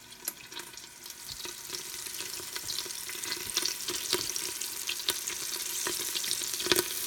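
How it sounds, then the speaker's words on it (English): Chicken breast sizzles in a hot 8-quart Instant Pot on the sauté setting for a chicken Marsala, a steady close frying hiss broken by crackles and pops, with no talking. "This is in my Instant Pot on saute."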